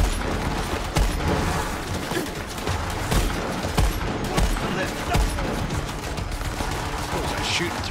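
Dense, rapid gunfire in Borderlands 3, near-continuous bursts and cracking shots layered with explosions and game effects, loud and close throughout.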